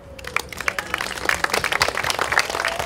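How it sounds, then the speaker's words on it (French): Audience at a village Saint-Laurent festival applauding volunteers, a crowd's clapping building quickly and staying dense and lively. "Je crois qu'on peut les applaudir."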